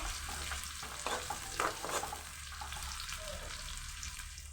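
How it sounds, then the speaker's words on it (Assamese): Onions sizzle as they fry in oil for a home-style chicken dish, a close, constant hiss with a few brief stirring scrapes near the middle. "পিঁয়াজখিনি অকণমান ভাজি ল'ব।"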